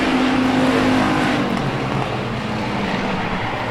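Race cars roar around a track at a night feature race, the 57 car challenging the 28 for position; a loud, continuous engine drone with a passing whine fading slightly, no voices.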